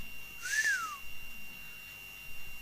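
A single rising-then-falling whistle rings out once, fairly clear, from someone in a church congregation during a sermon, followed by quiet room ambience.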